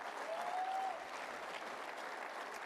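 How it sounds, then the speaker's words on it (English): An audience at a track and field coaching convention applauds, a short even wash of clapping at moderate distance with a faint whistle-like tone near the start. "You should be applauded."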